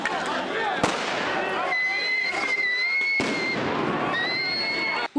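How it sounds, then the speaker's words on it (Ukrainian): Two sharp, loud stun grenade blasts cut through the roar of a shouting crowd at a street rally in Donetsk, with shrill whistles sounding between them. "Вони кидають у людей каміння і світлошумові гранати, чути постріли та вибухи."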